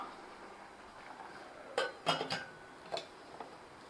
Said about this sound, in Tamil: நல்லா கொதி வந்துருச்சு இப்ப நம்ம மூடி போட்டுக்கலாம்